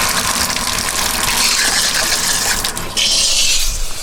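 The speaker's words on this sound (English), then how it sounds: "a little trickle of water comes out. But look at that flow of water" Strong, steady gush of water pours from an Oxygenics RV shower head, loud and broadband throughout, with a brief dip near the three-second mark before the full flow resumes.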